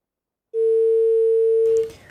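A steady telephone line tone sounds alone after a call disconnects during a phone-in religious talk broadcast, holding one unbroken pitch for over a second before cutting off into faint background noise.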